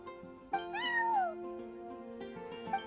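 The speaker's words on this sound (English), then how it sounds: "Oh, Charcoal! So it was you! I'm sorry, that's my neighbor's cat." Charcoal, a neighbor's cat in a video game, gives a couple of clear, fairly close meows, the first drawn out with a rising-then-falling pitch and a shorter one near the end, with no one talking.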